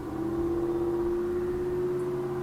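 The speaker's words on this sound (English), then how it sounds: "Sounds like a big diesel truck." A big diesel truck with a rusted muffler drones past, a steady low engine hum holding at an even level throughout, with no one speaking.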